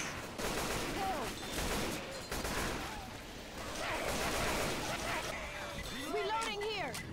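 Gunfire in Left 4 Dead 2 during a co-op match, bursts of shots rising and falling under people talking, with whistling game effects toward the end.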